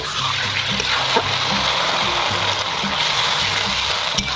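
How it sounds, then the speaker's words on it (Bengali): Water is poured into a pan of fried potatoes and spices while cooking an egg omelette curry. It makes a steady, close splashing hiss that runs for the whole stretch, with small spatters on top. "এবার আমি পরিমাণ মতন জলটা দিয়ে"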